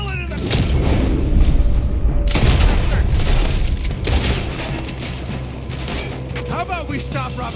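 Heavy gunfire and booming explosions from a Red Dead Redemption 2 shootout, with dense overlapping shots and blasts filling the whole stretch, loud and close, while voices shout beneath the barrage.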